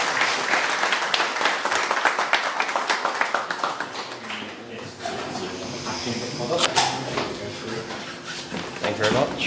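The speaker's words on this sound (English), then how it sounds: "Let's give him a big round of applause" An audience at a Manchester regional final of a startup pitch competition breaks into dense, sustained applause for several seconds, which fades as a voice starts talking over the tail of the clapping.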